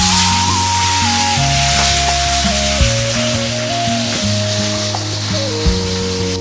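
Marinated rupchanda fish fries in hot oil in a frying pan over medium heat, a loud, dense, continuous sizzle up close with occasional small pops and no talking.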